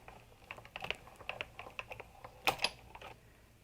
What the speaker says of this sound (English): we simply roll this through the Big Shot